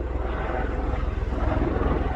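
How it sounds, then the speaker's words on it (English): A helicopter's rotor thumps with a steady rhythmic chop over the Arizona Trail, fairly distant and moderately loud, continuing without pause. "Very high traffic helicopter area."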